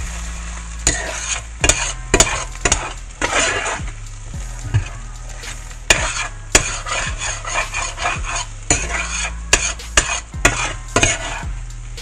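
A spoon stirs eggs in a frying pan, scraping the metal in quick, uneven strokes over a light sizzle, close up with no talking.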